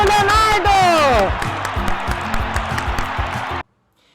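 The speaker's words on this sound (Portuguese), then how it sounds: "Palmas para o Leonardo!" An audience at a school art fair claps for a boy named Leonardo after his float-or-sink ball activity. High excited whoops open a few seconds of dense, close applause that then cuts off abruptly into silence.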